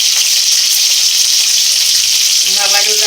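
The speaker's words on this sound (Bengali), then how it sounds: "সব ধরনের মশলা দিয়ে নিচ্ছি, দিয়ে নিয়ে একবারে কষে নিচ্ছি" Spices fry in a pan as they are stir-cooked before meat is added, giving a loud, close, steady hiss and crackle throughout, with light stirring scrapes near the end.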